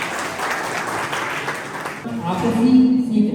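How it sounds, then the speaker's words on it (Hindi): Audience applause at a CPR training session at Agriculture College Jhalawar, welcoming volunteers who step forward; about two seconds of dense clapping, then a voice begins speaking as the clapping thins out. "इनके उत्साह का जोरदार तालियों से स्वागत।"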